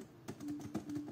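Keys clatter on a computer keyboard while text is entered in laser-engraving design software, a close, steady run of clicks with a few louder strikes and no voices.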